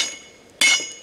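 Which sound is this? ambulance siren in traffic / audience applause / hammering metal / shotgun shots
hammering metal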